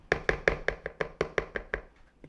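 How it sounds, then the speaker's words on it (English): A spoon working around the edges of a bowl of blended no-bake cheesecake mix gives about a dozen sharp, evenly spaced knocks that fade toward the end, close up with no voices. "I'm going to take my spoon and just scrape the edges and bring that down"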